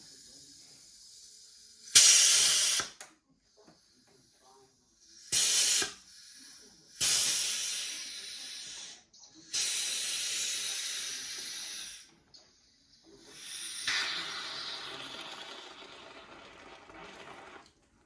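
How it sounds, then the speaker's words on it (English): Fermentation gas escapes from a Pinter home brewing keg in several sharp bursts of hiss, each a second or two long, followed by one longer sustained release, with short silences between. "So you will hear the gas escaping."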